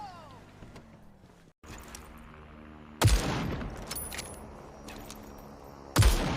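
Gunshots in a shooter video game: two loud, sharp reports roughly three seconds apart, each followed by ringing game noise, over a steady background of in-game sounds.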